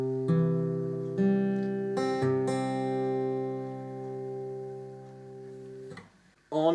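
Fingerpicked acoustic guitar from a song arrangement: several close, clear plucked notes in quick succession that ring out and slowly decay, followed by one more pluck near the end.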